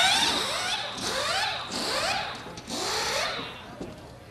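Air impact gun whirring in quick bursts as a pit crew tightens lug nuts during a timed pit stop challenge, three or four rising whines close up in a noisy setting.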